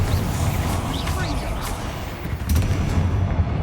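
Bombarda blasting spell from Hogwarts Legacy goes off in a loud, booming, rumbling explosion with a few sharp cracks, sustained over dense game ambience without a clear break.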